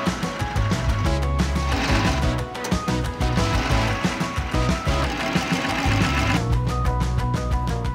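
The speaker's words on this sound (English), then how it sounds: "how she sews hair into Barbie's head" At the Mattel factory, a sewing machine sews hair into a Barbie doll head. It makes a loud, continuous, fast mechanical whirring and clattering with a steady rhythm and only brief dips.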